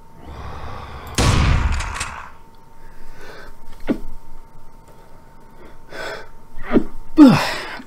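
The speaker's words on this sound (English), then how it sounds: "It was so scary I had to take a sneeze." One loud, explosive sneeze bursts out from a person playing a video game, standing out against ongoing game sounds and quieter noises.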